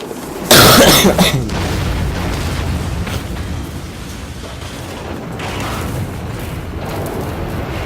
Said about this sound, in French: Sympa la petite explosion.